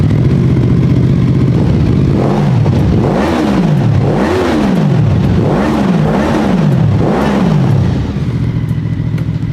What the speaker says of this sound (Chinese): 在走之前呢，给大家听一下原地的声浪到底怎么样